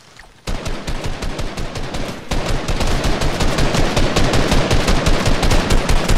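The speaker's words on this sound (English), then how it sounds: "Damn, Curtis, you just open fire like that." Rapid automatic gunfire in the video game Fortnite during a squad match, a loud sustained burst of closely spaced shots that starts abruptly after a brief quiet moment and keeps hammering steadily to the end.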